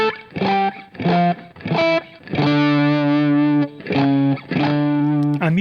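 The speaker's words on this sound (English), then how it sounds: "I'm using that trail with my octaves." An electric guitar riff played in octaves through a distortion effect with a trailing echo, sounding as choppy repeated chords with a longer sustained chord in the middle, clear and up close.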